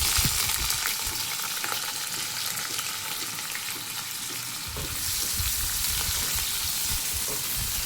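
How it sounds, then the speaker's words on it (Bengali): Chopped onion sizzling in hot oil in a wok as a dal is prepared, a loud continuous frying hiss with stirring scrapes, briefly intensifying as more onion hits the oil. "কড়াতে আমি আগে থেকে তেল গরম করে নিয়েছি। প্রথমে দিয়ে দিচ্ছি পেঁয়াজ কুচি,"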